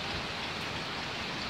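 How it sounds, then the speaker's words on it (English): Torrential rain from a hailstorm in Germany roars as a dense, unbroken hiss, loud and close throughout with no voices. "this seriously is the biggest rain I have ever seen in my life"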